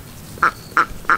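Ducks in a yard give three loud, evenly spaced quacks, close by and clear against a quiet background.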